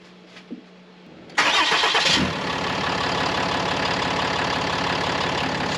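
A turbo-swapped vehicle engine in the Idaho wilderness cranks briefly, then fires and roars loudly before settling into a steady idle, close up, with no voices.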